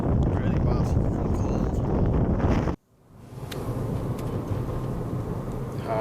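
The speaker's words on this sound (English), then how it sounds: "This wind's really bad" Strong outdoor wind near a nature reserve and country roads batters the microphone in a loud, continuous roar, cuts out abruptly for a moment, then returns slightly weaker and steady.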